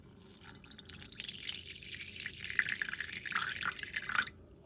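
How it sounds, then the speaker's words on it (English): Distilled water is rinsed over a corroded DJI Mini 2 drone circuit board, a soft trickle and dripping that builds gradually, faint and close, with no talking. "we'll need to thoroughly rinse the board with distilled water to neutralize the vinegar"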